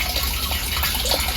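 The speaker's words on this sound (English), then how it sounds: "It is actually taking the water from this blue line and actually dumping it into the second barrel." Rainwater gushes steadily from a line into a rain barrel, a close, continuous pouring and splashing with no voices.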